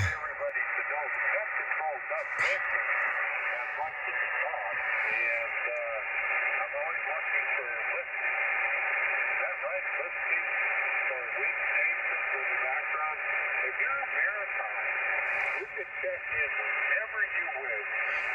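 Band-limited shortwave ham radio hiss on a Yaesu FT-857D tuned to the Maritime Mobile net, with garbled, warbling voices fading in and out, steady and continuous throughout.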